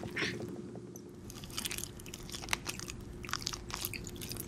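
Close, crunchy chewing of a bread sandwich with coarse salt, steady munching with small crisp bites breaking through.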